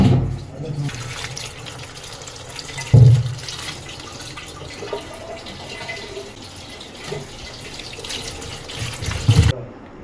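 Mushrooms for pakoda are washed piece by piece under a running kitchen tap, a steady stream of water splashing in a sink with a few louder bursts, heard under intermittent talk.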